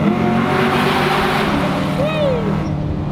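Modified Ford Mustang drift car with cam and bolt-on upgrades, its engine roaring loud and steady at high revs nearby, a continuous aggressive rasp with a brief rising whine, people talking faintly underneath.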